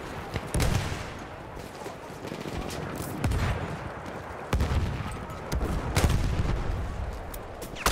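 Gunfire crackles through a Battlefield 1 Conquest match, with bursts and sharp cracks at an uneven pace over a steady battlefield din, several louder volleys standing out, no clear talking.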